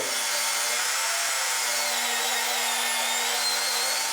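A table saw cuts through a wooden slab for a mallet project, a loud, steady high-pitched whine with a faint hum beneath, running continuously and close with no talking.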